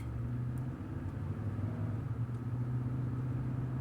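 A car on a road gives off a steady, low engine and tyre rumble at moderate distance, continuous and without speech.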